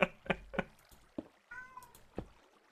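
A pet cat gives a short meow amid a few sharp knocks and taps, close by and fairly quiet, during a home gaming session.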